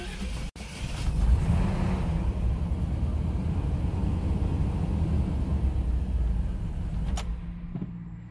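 Car engine starting with the starting battery relocated to the rear: a short click, then the engine catches and settles into a steady, moderately loud idle before cutting off abruptly near the end.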